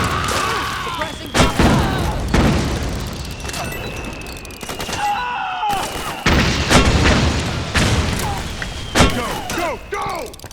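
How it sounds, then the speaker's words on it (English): Gunfire and booming blasts from the Metal Gear Solid 4 video game, with repeated loud bursts and thuds through a dense battle scene while voices shout over the fighting. "Suppressing fire!"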